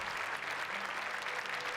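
Guests at an eightieth-birthday banquet in a Korean KBS2 drama applaud with steady, even clapping throughout. The sound is soft and somewhat distant, with no clear speech over it.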